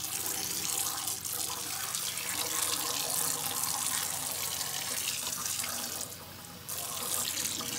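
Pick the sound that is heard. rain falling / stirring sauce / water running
water running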